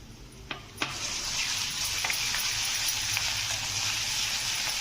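Browned onion with ginger-garlic paste fries in a pan, giving a steady close sizzle with a few sharp clinks and pops near the start.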